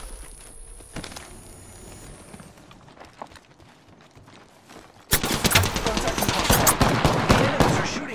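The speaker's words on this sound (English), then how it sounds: "Enemies are shooting at me." Dense bursts of automatic gunfire from enemies in the shooter game Apex Legends. Scattered shots come first, then from about five seconds a loud, sustained barrage of rapid fire dominates.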